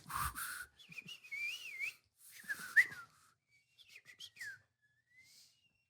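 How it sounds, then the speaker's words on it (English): Clumsy whistling through the teeth comes in several wavering, breathy bursts separated by pauses, some sliding up and down in pitch and fading out near the end, close and fairly quiet with no talking. "Have you not heard the bad whistling? I have not. It's like you do it with your teeth."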